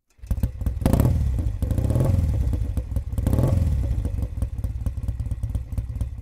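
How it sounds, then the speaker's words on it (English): Vintage Triumph motorcycle engine starting up and running close by, revving in two swells with a loud, thumping, clattering beat. "the bike sounds amazing"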